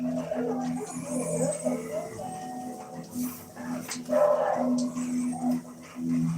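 A small dog whimpers and gives short yips, fairly close, in soft repeated bursts over a steady background hum.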